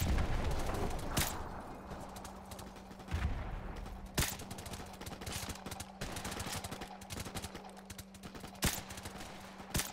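Gunfire in the video game Modern Warfare Remastered: irregular sharp shots and bursts crack out one after another, mixed with a steady low hum and distant booms, with no talking.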